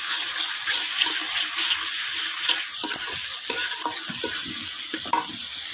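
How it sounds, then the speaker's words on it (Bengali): Spice masala with salt being stir-fried in a pan, a constant sizzle broken by repeated scraping and stirring strokes, close and fairly loud, with no talking. "এই যে মশলার সাথে লবণ দিয়ে দিলাম ওই যে এখন মশলা কষাই কষাইতেছি"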